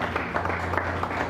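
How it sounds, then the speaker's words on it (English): A church congregation claps in praise, a dense, steady wash of applause filling the room, brief and continuous with a low hum underneath. "I'd like us to give the Lord a clap of praise"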